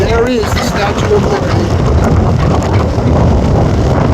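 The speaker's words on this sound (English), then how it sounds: "The wind is churning up." Strong wind on the deck of the Staten Island Ferry roars and buffets the microphone loudly and continuously, nearly drowning out someone speaking over it.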